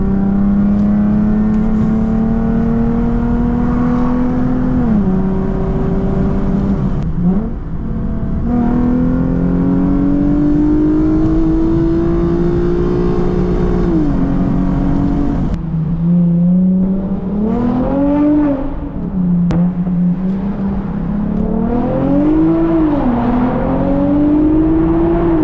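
A Lexus IS350 drives on an early morning road, its engine rising and falling through repeated accelerations and gear changes. The steady, close engine note fills the cabin with no talk over it.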